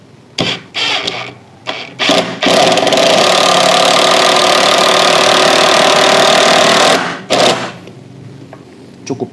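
A NAGAWA BIS12U cordless impact driver set to low torque drives a 5 cm screw, a loud sustained buzzing hammer of about five seconds after a few short bursts, then stopping with brief trailing clicks.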